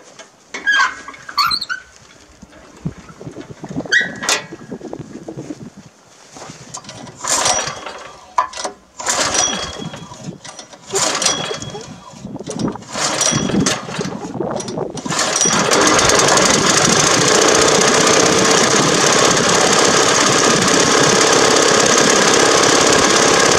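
Husqvarna hydrostatic riding mower engine cranking over in several short bursts, then catching and running steadily and loudly for the last several seconds.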